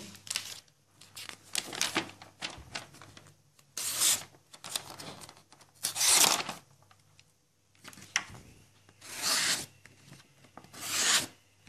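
A blade slices through paper in several separate rasping strokes, each a loud scratchy burst followed by a short pause, with no talking.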